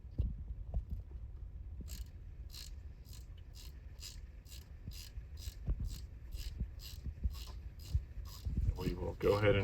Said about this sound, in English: We will go ahead and fish off this last one here using the ratchet wrench